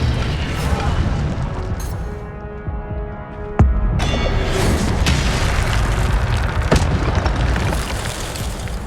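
Fire spell blasts in Hogwarts Legacy: a dense, loud rumbling clash with several sharp booming impacts, one standing out near the middle and another later, under continuous game noise.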